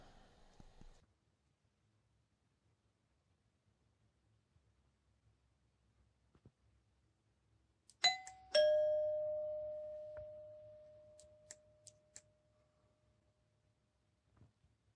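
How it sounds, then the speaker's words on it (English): A solenoid doorbell chime wired to an Arduino circuit and transformer strikes twice in quick succession, the second tone ringing out and slowly decaying over several seconds in a quiet room, with faint clicks around it. "Then I tested the circuit with the actual transformer and bell."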